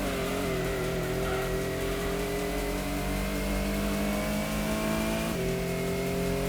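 A race car engine in a 1998-era racing video game holds a loud, continuous whining drone, its pitch sliding and then dropping abruptly as on-off throttle cuts in and out.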